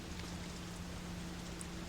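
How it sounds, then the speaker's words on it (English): Steady rain from the Fatal Frame: Maiden of Black Water video game, a soft, even hiss of falling drops that stays level and unbroken throughout, with no voices over it. "It's raining out."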